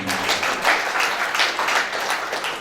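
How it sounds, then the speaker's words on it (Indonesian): Congregation applauding during a Christmas service at a church, a steady, dense wash of clapping hands filling the room without a break for about three seconds. "Yang setuju tepuk tangan."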